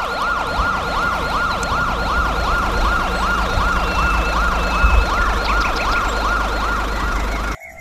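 A toy ambulance siren wails in a steady rising-and-falling cycle, loud and close, with faint mechanical clicks beneath.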